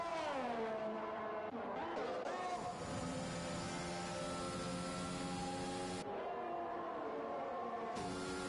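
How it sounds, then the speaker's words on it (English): An AlphaTauri Formula 1 car in the racing game F1 2021 at Great Britain roars loudly with rising and falling engine revs, shifting pitch as it runs wide and goes off track, with a voice briefly audible. "Max has gone off this time in the AlphaTauri"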